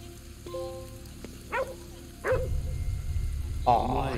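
A dog in the video game Ghostwire: Tokyo gives a few short barks and yips amid rain ambience and game sounds, with someone talking over it.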